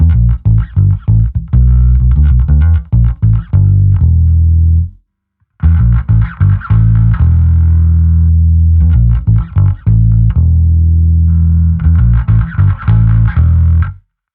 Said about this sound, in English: you hear more of that drive, more of that mid-range coming through, which thickens things up a little bit